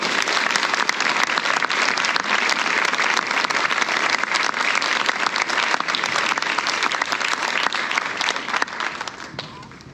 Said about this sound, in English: Let's give one more round of applause to the students.